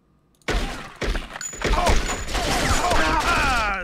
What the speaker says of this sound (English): He's fucking shooting me.